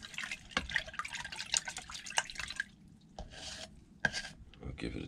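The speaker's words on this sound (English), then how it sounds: "we'll stir that in there for a second" Brine being stirred after salt, sugar and ground cloves go in for smoking tuna, giving soft liquid swishes and drips with a few sharper clinks of a utensil against the container, close and moderately quiet.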